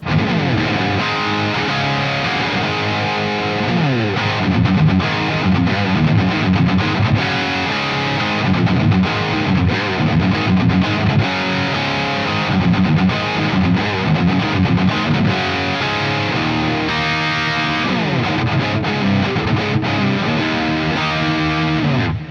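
Electric guitar played straight into a Sir Modern White Tiger amplifier, giving a loud, distorted tone with sustained chords and riffs throughout, alone with no talking.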